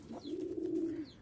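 A single soft, drawn-out coo comes from a Giribaz flying pigeon from Rajshahi, heard up close in a quiet setting.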